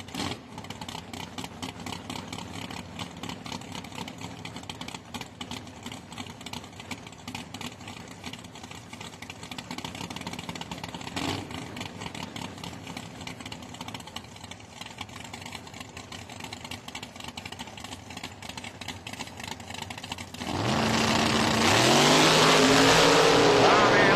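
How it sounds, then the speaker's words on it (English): Nitrous-assisted drag race Camaros, including an '88 with a 582 cubic inch engine, idle and rumble at the strip with commentary over them, then a sudden loud roar of engines launching near the end. "The 88 Camaro 582 cubic inch nitrous assisted power plant."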